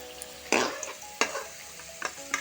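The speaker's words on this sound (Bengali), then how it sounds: "আমি আলুটা ভেজে নেব।" Potatoes fry in white oil in a wok, a constant sizzle broken by three or four sharp, clattering scrapes of a spatula stirring them at irregular intervals. The frying is close and clear, with no talk.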